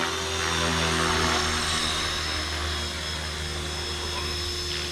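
A Blade Fusion 360 3S electric RC helicopter flies at 80% throttle, its steady, loud rotor whine and motor drone filling the whole stretch, near and continuous.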